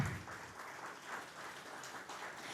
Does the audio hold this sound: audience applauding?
yes